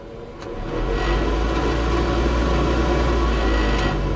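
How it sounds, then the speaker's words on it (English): A steady low whirring hum rises as the heater fan motor of a 1966 Chevrolet C-10 truck spins up and then holds a constant drone, with broadband air noise and no talking. "Heater. If you listen, you can hear it kick on."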